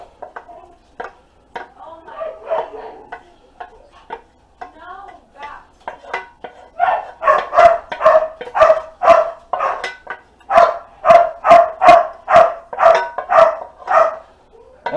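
Several dogs, including a pit bull, bark in bursts in a home kitchen: scattered yaps at first, then a loud, steady run of rapid barks in the second half, with faint kitchen clatter underneath.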